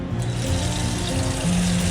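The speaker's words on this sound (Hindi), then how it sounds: "तो सबसे पहले हम लोग पानी भर लेते हैं" Tap water pours steadily into a cooking pot for boiling eggs, a continuous close rushing splash with no talking.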